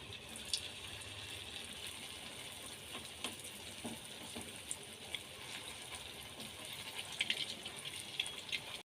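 Potato cheese balls deep-frying in hot refined oil in a kadai give off a quiet, steady bubbling hiss dotted with faint scattered crackles and pops.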